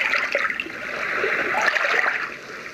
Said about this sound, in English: Sounds like as if someone's taking a bucket of water and just kind of dripping it.